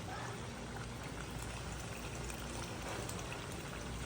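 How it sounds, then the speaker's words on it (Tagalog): A small amount of water is poured into a pot of corned beef sinigang, a soft, steady wash of liquid splashing and bubbling that stays faint and continuous throughout. "lalagyan na natin ito ng konting tubig lang"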